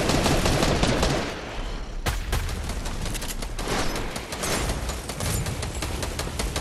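Video game gunfire erupts as dense rapid bursts and volleys of shots, loud and close, continuing almost without pause.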